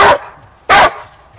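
Two dogs playing and scuffling over a ball let out two sharp, loud barks close by, spaced about half a second apart.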